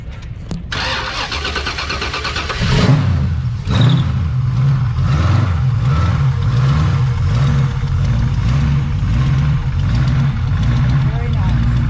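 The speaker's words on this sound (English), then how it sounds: "let's start it up. All right, I gotta find the key. I want to hear the engine" A 1953 Ford Customline engine at an outdoor car show cranks briefly, catches, and settles into a loud, steady, lumpy idle close by, with voices talking over it.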